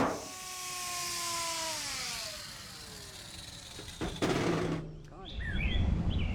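Cutoff wheel slicing through the roof of a Chevy Luv truck being chopped, a high whining tone that slides lower as the wheel bogs into the metal, with harsh grinding noise and a few sharp metallic chirps near the end.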